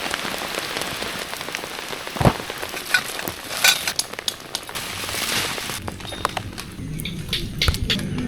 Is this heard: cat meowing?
no